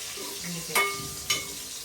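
Spinach fries in a pan with a soft, steady sizzle, broken twice by sharp metallic clinks of a utensil against the pan.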